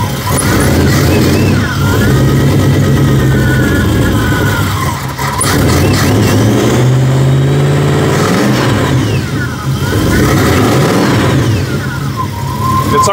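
A 1993 GMC Jimmy 4x4 with a swapped-in V8 idles and then revs up and back down several times, loud and close, with a steady engine rumble throughout and a few voices faintly underneath.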